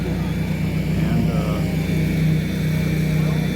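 A World War II era propeller plane at an air show, a steady droning engine and propeller hum passing along the runway, loud and continuous throughout.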